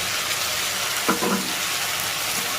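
Ginger paste and grated tomato frying with garlic in a pan give a steady, fairly loud sizzle, with a brief scrape or stir near the middle.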